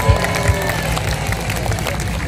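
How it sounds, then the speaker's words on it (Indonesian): An audience of women at a village Maulid Nabi gathering in Pasirsari claps, a dense, steady patter of many hands mixed with crowd murmur, loud and continuous throughout. "Tepuk tangan dulu tuh ibu-ibu"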